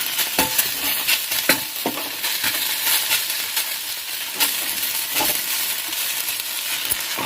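Okra fries with masala in a hot pan under a constant close sizzle, while a spoon stirs and scrapes against the metal in irregular knocks.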